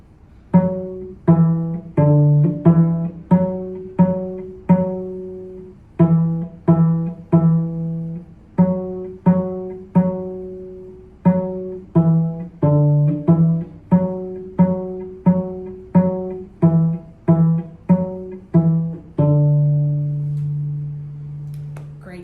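Beginner cello song played as a long run of short, evenly detached bowed notes in a steady rhythm, close and full-toned, with brief pauses between phrases and a final sustained low note.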